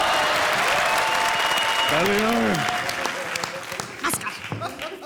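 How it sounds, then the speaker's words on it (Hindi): A studio audience at a televised comedy show bursts into loud, sustained applause. A voice calls out briefly over the clapping before it slowly thins out. "अरे तालियां,"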